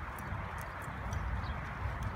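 Hooves of a horse walking during a training exercise thud in a soft, low, uneven rhythm, heard from on horseback, with faint outdoor background noise and no talk.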